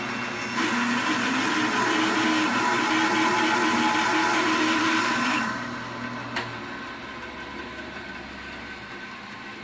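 A small log is ripped in half with a saw to make two bowl blanks. A loud, steady machine whine and drone holds for about five seconds, then drops to a quieter run-down with a faint click.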